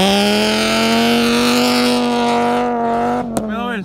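A car engine drives across sand dunes, holding a loud, steady droning tone for about three seconds before abruptly cutting off with a sharp click near the end.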